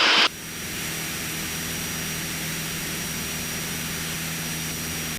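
Steady, loud drone of a Van's RV-7A light aircraft's engine in the cabin after departure, a constant hum with tonal whine and no voices.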